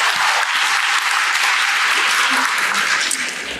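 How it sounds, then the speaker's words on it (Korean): A seminar audience at the 2023 Seoul Money Show gives a long, loud round of applause. Dense, steady clapping fills the room without letting up. "마무리 이야기 잘해달라고 박수 한번 크게 부탁드리겠습니다"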